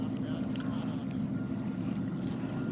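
Boats out on a lake give a steady, low rumbling wash of engine and water, constant and moderately loud throughout.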